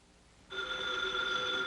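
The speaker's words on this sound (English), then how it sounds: "Oh, there's the phone." A telephone bell starts ringing abruptly after a brief quiet moment, sustaining a bright, steady electric trill close by, in a 1950s TV sitcom.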